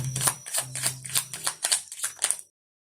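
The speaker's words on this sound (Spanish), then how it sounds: "ahora vamos a barajar con el tarot de la frecuencia las cartas" Tarot cards are shuffled close up in a quick series of about eight crisp riffling snaps and taps, then silence.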